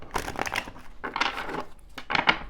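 Tarot cards are shuffled by hand up close in three separate papery, rustling bursts with short pauses between them; no one speaks.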